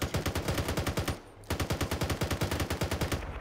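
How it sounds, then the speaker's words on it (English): Rapid automatic gunfire in the military video game Arma 3, loud evenly spaced bursts of shots with a brief pause near the middle before the stream of fire resumes, close and dominant with no voices. "Open fire."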